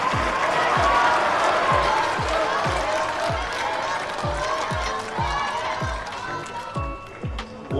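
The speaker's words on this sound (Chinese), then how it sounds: "请我们的观众朋友送一些掌声给到他们" A studio audience applauds esports players at a championship event, with steady clapping and crowd noise, a rhythmic low thumping beat underneath throughout.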